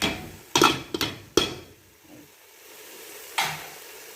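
Jareesh tipped into tomato sauce and stirred in a pan, a few sharp scraping knocks and rattles followed by a soft sizzle and one more scrape near the end.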